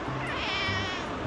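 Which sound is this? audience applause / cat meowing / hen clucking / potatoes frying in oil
cat meowing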